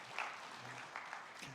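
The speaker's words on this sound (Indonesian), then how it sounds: "Tepuk tangan dong." A church congregation at a Sunday service claps together, a faint, distant wash of applause with soft voices mixed in.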